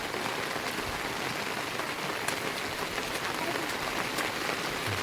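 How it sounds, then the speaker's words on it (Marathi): Heavy rain pours steadily across the Konkan hills, a dense, continuous hiss of drops hitting surfaces close by, with no letup and no voices. "एवढा पाऊस पडतो 2-3 दिवसापासून कोकणामध्ये"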